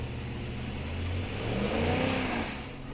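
Car stuck in beach sand revving its engine, a steady mid-pitched drone that swells and rises in pitch before easing off, moderately loud and without talk.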